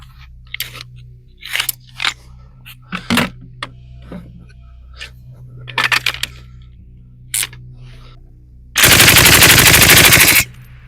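A suppressed FN MAG general-purpose machine gun, heard first as scattered sharp reports and short bursts, then a loud, continuous automatic burst of about two seconds near the end.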